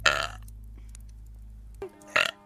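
A loud, close burp from a vtuber opens the sequence, followed after a steady hum and a brief pause by a second shorter belch-like sound near the end, with no words spoken.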